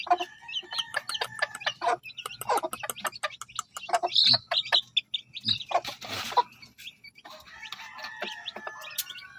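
Chicks and hens cluck and peep in a busy, overlapping chatter, close by, with rapid high cheeps and a burst of louder clucking partway through, and no speech.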